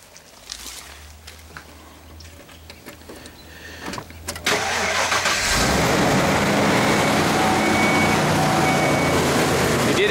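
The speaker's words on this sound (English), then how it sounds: "She does start real good, real smooth, no sounds on turnover." An old truck is started with a key: a brief cranking murmur and clicks give way to the engine catching, then a loud, steady, smooth idle that fills the rest of the time, close by.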